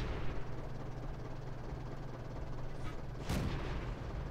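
A Type 97 Chi-Ha tank gun in World of Tanks fires one loud, sharp boom late in the clip over a steady low engine rumble.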